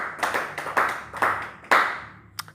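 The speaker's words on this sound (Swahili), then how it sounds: "Sasa mpigie Yesu makofi." A church congregation claps hands in bursts during a night prayer service, several loud rounds of clapping close by, each fading before the next, with no speech.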